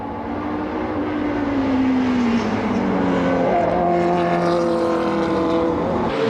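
Group C/GTP prototype race cars, including a 1990 V12, race at the Brands Hatch circuit, a loud continuous engine roar with rising and falling whine as cars pass, no talk.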